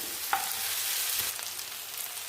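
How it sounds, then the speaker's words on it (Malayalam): Tomatoes sautéed with onions in a pan for a Kerala-style sardine curry, giving a steady, close sizzle with one small clink from a spoon and a light stir, no voices. "തക്കാളി ചേർത്തത് നന്നായിട്ട് നമ്മൾ വഴറ്റിയെടുക്കാം"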